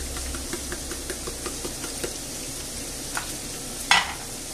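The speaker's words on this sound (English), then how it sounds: "So these, we're going to fry them there and move them about every few minutes until they're nice and crispy." Potatoes frying in a hot pan give off a steady sizzle with regular soft stirring taps, and near the end a brighter clatter cuts in briefly.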